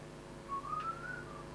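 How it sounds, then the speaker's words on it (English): A person whistles a short, wavering tune, faint and alone over a steady low hum, the melody rising slightly as it goes. "You're whistling a song."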